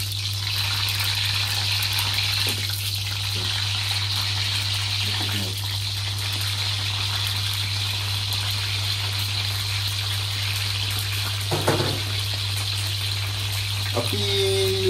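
Sambal ingredients sizzling in hot oil over a low flame, a steady hiss and crackle throughout with a constant low hum beneath and a few brief clatters.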